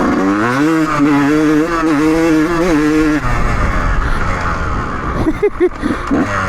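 A Kawasaki KX125 two-stroke dirt bike engine revs loudly and close by at a new outdoor track, its buzzing pitch rising and wavering for about three seconds before it drops into rougher, choppier engine noise.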